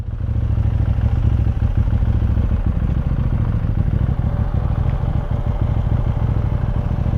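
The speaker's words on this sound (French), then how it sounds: "Hop, on va reposer la moto là." A KTM 790 motorcycle engine rumbles steadily and loudly up close, idling with a rough, constant drone throughout and no talking.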